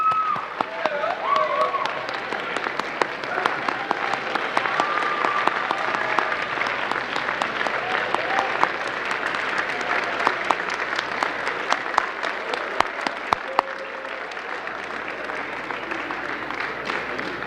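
An auditorium audience gives steady, sustained applause for distinguished alumni honorees at a high school ceremony. The clapping is dense and even throughout, with faint voices underneath.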